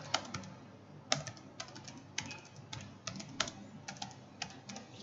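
Computer-keyboard typing as information is entered into a form, a close, uneven patter of key clicks arriving in small clusters with brief pauses and no voices.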